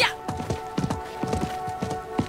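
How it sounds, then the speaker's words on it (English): A horse's hooves clip-clop in a steady walking rhythm in the Diablo 4 video game, several distinct hoofbeats close by over a faint ambient hum. "I think that was the merchant's horse."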